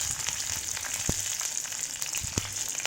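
Green and dried red chillies sizzling in hot oil in a pan, a steady close crackle and hiss broken by occasional sharp pops.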